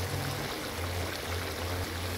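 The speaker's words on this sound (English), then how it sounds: "we're going to dash some water on it right about now" Water dashed onto a pot of oxtail cooking on a coal stove gives a steady, hissing pour and splash, close and moderately loud, with no talk.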